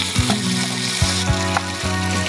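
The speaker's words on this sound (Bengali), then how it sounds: "তারপরে পেঁয়াজ কুচি ঢেলে দাও।" Chopped onion frying in hot oil in a kitchen pan, turning golden: a steady, close sizzle with a few low, rhythmic thumps and stirring knocks, no talking.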